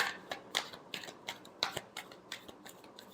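Tarot cards are shuffled in quick, crisp bursts: a string of sharp riffling snaps, some louder than others, in an uneven rhythm close to the microphone, with no talking.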